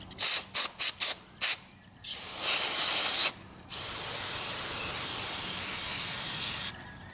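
Solvent cleaner sprayed into a gummed-up Briggs lawn mower carburetor: several short bursts of hiss, then two long continuous sprays, close and loud.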